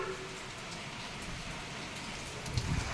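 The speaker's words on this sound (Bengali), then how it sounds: "এত বৃষ্টি শুরু হয়ে গেল" Heavy rain pours steadily during Cyclone Remal, a continuous dense hiss of drops on surfaces that swells slightly louder toward the end, with no voices.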